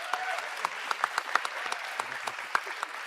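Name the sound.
applause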